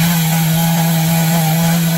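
Chainsaw cutting wood on a dangerous high job, a loud, close, steady engine whine running without a break, no voices.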